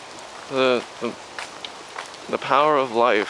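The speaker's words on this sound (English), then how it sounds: "But it's still raining, so I don't know if that's a good or bad thing." Rain falls steadily on a garden on a wet day in the Imperial Palace East Gardens in Tokyo, a soft constant patter under a person talking close to the microphone.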